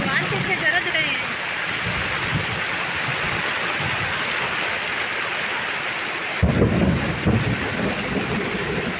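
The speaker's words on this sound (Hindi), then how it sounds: "सुन रहे हैं आप लोग कितना तेज भगवान गरज रहे हैं।" Thunder booms through steady rain in an outdoor storm, a broad rumbling roar over the hiss of falling water, with a louder, closer burst near the end and wind buffeting the microphone.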